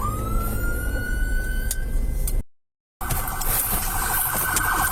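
A rising police car siren wail over loud road and engine noise, cut off abruptly by a moment of silence before traffic noise resumes.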